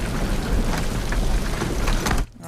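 Steady heavy rain pours in a TV drama scene, a dense broadband wash that holds loud and even, then cuts off abruptly near the end, with no voices.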